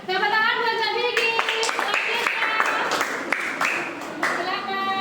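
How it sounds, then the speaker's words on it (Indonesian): An audience at a teacher-training session in Surakarta claps for a presenter: a loud burst of close handclapping that breaks in over a host's voice and continues in uneven waves while talking goes on. "Tepuk tangan buat Kak Vicky."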